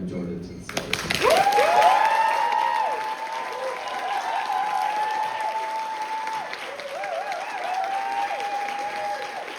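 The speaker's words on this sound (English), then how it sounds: "will you please join me in giving a massive round of applause to welcome Jordan to the stage." Audience applause and cheering welcome a speaker onto the stage at a Redcliffe Q&A event. The clapping starts abruptly, stays loud and sustained throughout, and crowd voices and cheers are mixed in.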